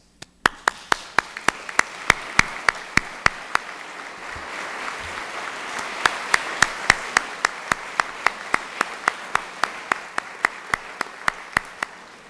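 An audience applauds graduates at a 2012 commencement ceremony: a sustained wash of crowd clapping with one loud, close clapper beating sharp, evenly spaced claps throughout.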